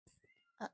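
A cat meows a few times close by, ending in a louder, drawn-out meow; otherwise quiet.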